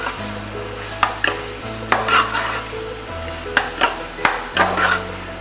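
Onions sautéing in a pan for prawn biryani on an induction cooktop, with biryani masala added: a steady frying sizzle under repeated stirring scrapes and clinks of a spoon against the pan, close and alone.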